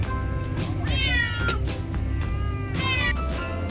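Cats meow loudly and repeatedly during a car journey, with drawn-out rising wails over a steady low rumble of the moving vehicle.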